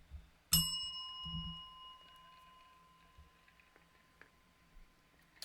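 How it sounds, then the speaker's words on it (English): A bell in a tavern is struck once with a sharp, bright ding that rings on and slowly fades over several seconds against quiet background noise. "Hit the bell."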